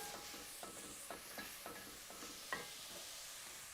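Onions for tortilla soup are stirred in a pot, giving soft, faint scrapes over a low, steady sizzle, heard from a little distance.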